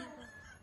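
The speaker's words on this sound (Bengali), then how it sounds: "মোরগ ডাকছে।" A rooster crows in the hills of Daringbadi, Odisha, a single short, close and fairly loud call that fills the whole brief moment with no talk over it.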